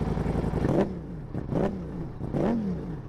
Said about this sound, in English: This motorcycle has got the Akrapovic full system exhaust, which sounds brutal